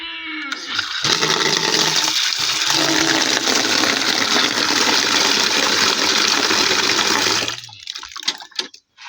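Water is poured out for a calf on a goat farm, a loud, steady gushing stream that lasts several seconds and then cuts off, followed by a few small splashes and knocks.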